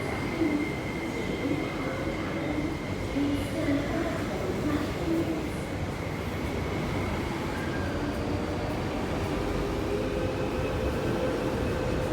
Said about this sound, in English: We got a C train coming up next.